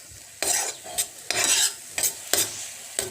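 Onion, tomato and spices for rajma frying in a pan, with a spoon scraping and stirring in quick repeated strokes over a steady close sizzle.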